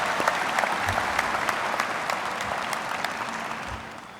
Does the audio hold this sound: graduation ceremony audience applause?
yes